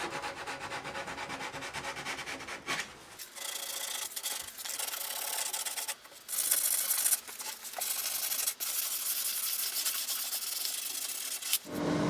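Steady scratchy rubbing of sandpaper on a wooden guitar soundboard, close up, in long continuous strokes with a few brief pauses between passes.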